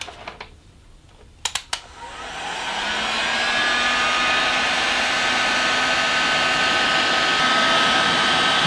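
A hot-air tool blows a steady, rising roar across a connector assembly to melt its solder, building up after a couple of faint clicks and then holding a loud continuous whoosh.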